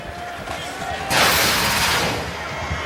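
A football kick clanging off the goalpost upright during a Nebraska at Oklahoma college game, a single sharp burst standing out over crowd noise and a broadcaster's voice.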